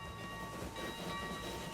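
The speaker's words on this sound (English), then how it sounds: "that's because a train just left" A train pulls out of a station in Transport Fever 2, a steady rolling rail rumble with faint sustained tonal whines layered above, moderately quiet and continuous without speech.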